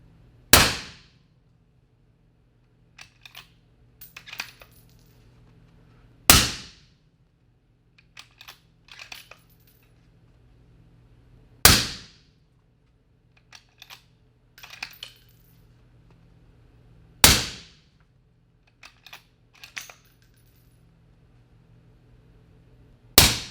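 7.62 mm M80 147-grain rounds striking armor plates: five loud, sharp shots spaced roughly five seconds apart, each followed by quieter scattered clinks and rattles in between.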